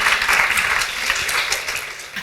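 Audience applause at a talk or interview event, a steady dense wash of clapping hands that holds across the whole stretch without a break, fairly loud and close, with no voices rising above it.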